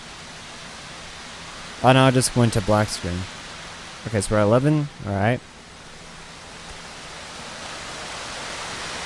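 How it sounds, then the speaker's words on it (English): Steady broadband wash of ocean waves and current from the game Payday 2, a continuous hiss running throughout, with someone talking over it for a few seconds. "The way the waves are, like the current that it's making right now, sounds like an ocean."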